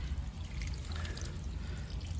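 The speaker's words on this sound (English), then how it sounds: "There's some beautiful wash water coming out." Wash water pouring out of the drain hose at the filter of a Bosch Varioperfect EcoSilence Drive washing machine, a steady close gushing trickle that runs unbroken throughout with no talk.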